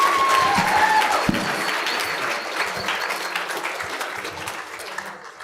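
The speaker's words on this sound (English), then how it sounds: "let's give another round of applause for those great pictures" An audience at an entrepreneur Shark Tank night event claps in sustained, dense applause that stays loud and slowly fades near the end.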